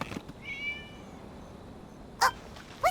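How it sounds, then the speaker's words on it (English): A cat meows once in the Genshin Impact video game, a short, drawn-out tonal call near the start, followed later by two brief sharp knocks against a quiet background. "It was just a cat."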